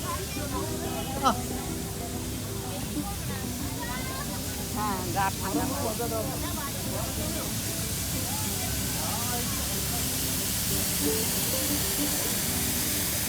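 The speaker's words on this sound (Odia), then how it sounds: "ପୁରା ପାଣି ଉପରୁ ସ୍ପ୍ରେ କରାହେଉଛି" Water spraying down from overhead at Eco Park in Kolkata, a constant close hiss of spray and splashing that runs through the whole stretch while people talk and call out over it.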